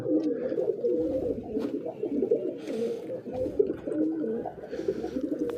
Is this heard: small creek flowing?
no